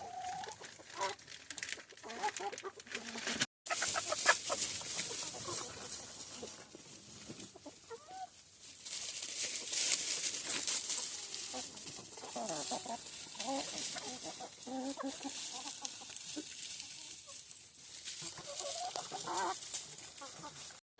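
Chickens cluck steadily in a coop and chicken run on a winter afternoon as snow begins to fall, with overlapping calls at close to moderate distance over a constant outdoor hiss.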